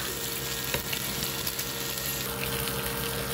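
Tokwa (firm tofu) frying in a hot pan for spicy Chinese-style dilis with pork, a steady dense sizzle with a few small crackles throughout, close and fairly loud.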